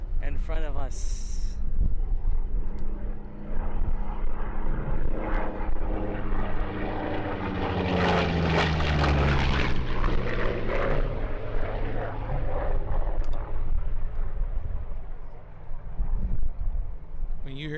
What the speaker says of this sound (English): When you hear that plane coming down a runway, it means business.